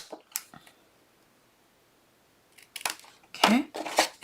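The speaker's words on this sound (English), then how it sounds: "You're going to cut up the score line, miter and miter, and cut the bulk if you want to." Scissors snipping along the score lines of a paper craft box, a few short crisp cuts near at hand after a quiet stretch, with faint handling noise between them.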